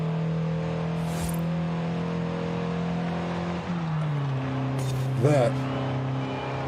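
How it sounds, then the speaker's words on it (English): A 1970 Datsun 510 engine in Forza Horizon 5 holds a steady drone, then dips as it bogs through a rough gear shift and climbs again, with a short tire squeal near the end and a voice speaking briefly. "I'm not shifting so great. I'm bogging it down a little bit."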